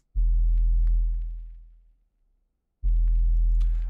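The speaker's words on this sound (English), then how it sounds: "It's just a super thick sine wave" Two long, deep, smooth sub-bass notes from a thick sine-wave synth bass made with a Sublab preset, each swelling in and fading out, with a pause between them and nothing else playing.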